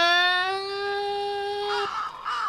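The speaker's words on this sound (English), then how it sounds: "Oh, they're crows." Crows cawing in the horror adventure game The Last Door: a long, steady, close harmonic call that ends abruptly, followed by a faint rougher burst and noise.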